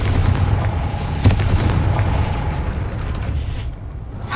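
Confringo fire curse going off in the Hogwarts Legacy video game, a loud sustained rumbling explosion with a sharp crack near the start, fading slightly toward the end.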